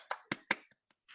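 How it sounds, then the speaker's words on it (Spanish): Three sharp, separate claps from one person in an online meeting, evenly spaced and close to the microphone, followed by a couple of faint ticks and a brief soft noise. "Un aplauso."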